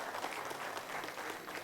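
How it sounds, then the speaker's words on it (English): Brief, fairly faint audience applause at an HR convention for resort workers, a dense wash of many hands clapping at a distance with no break. "Why don't we all give a round of applause to the resort workers who kept this industry alive"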